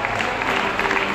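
A hall audience at a devotional discourse gives a dense, continuous round of applause to welcome a swami, close and fairly loud.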